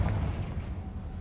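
A Confringo blast spell exploding in Hogwarts Legacy, a heavy, booming low rumble that decays over about a second, loud and alone.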